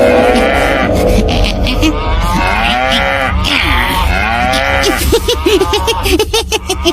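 Cows in a Bengali cartoon village moo loudly and close by, several long drawn-out calls overlapping in the middle, followed by shorter bellows near the end.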